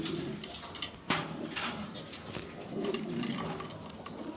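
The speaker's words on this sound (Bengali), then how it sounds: "জরনা শার্টিং কবুতর" Jorna satin pigeons coo in low, rolling murmurs that run steadily through the moment, with a couple of sharper knocks and light rustling on top; no voices are present.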